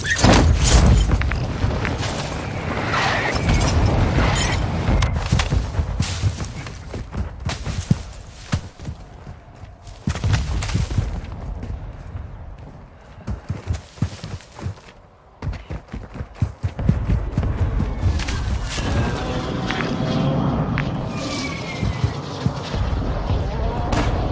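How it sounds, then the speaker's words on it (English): Mortar strike explosions in Warzone 2 land as a run of heavy booms and thuds, some close and loud and others more distant, spread over the stretch with gunfire and footsteps between the blasts. "Hostiles launched a mortar strike."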